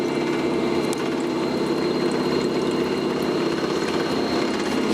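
A repaired washing machine runs with a steady pump-like hum and churning water noise, continuous and fairly loud throughout, with no talking.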